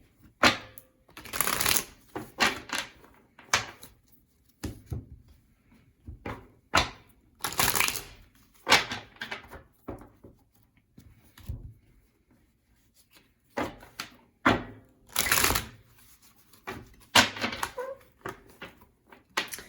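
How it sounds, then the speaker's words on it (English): Tarot and oracle cards are shuffled by hand in repeated quick riffling bursts separated by short pauses, crisp and close in a quiet room. "I do want to shuffle the oracle cards"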